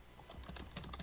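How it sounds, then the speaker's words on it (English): Rapid, uneven keystrokes clatter on a computer keyboard, a short burst of close, crisp taps with no voices over them. "I hear typing."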